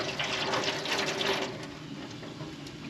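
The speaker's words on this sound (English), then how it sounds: "I'm about to add the pineapple juice" A cup of pineapple juice poured onto brisket before smoking over a cherry wood and oak fire, a close steady liquid splash that tapers off after about a second and a half.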